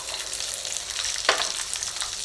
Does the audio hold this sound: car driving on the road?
no